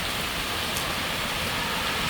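Heavy summer rainstorm pouring steadily on a street, a dense, constant broadband hiss of downpour with no pauses, close and loud throughout.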